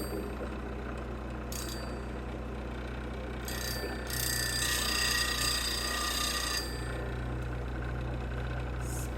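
Robert Sorby high-speed steel lathe tool ground on a 180-grit CBN wheel, a steady motor hum with gritty scraping bursts as the steel touches the wheel, close and continuous.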